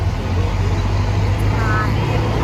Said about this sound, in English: I think our bus is here.